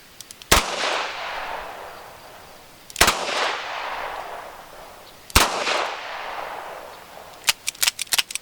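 Loud revolver shots from a 2-inch Chiappa Rhino, three single sharp reports spaced a couple of seconds apart with ringing decay, then a quick cluster of fainter clicks or snaps at the end.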